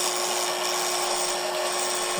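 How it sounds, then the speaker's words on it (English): A continuous high-pitched drilling whine runs throughout as a drill bores holes in a wooden mortise, steady and close, with no pauses. "I'll drill the holes in the mortise first."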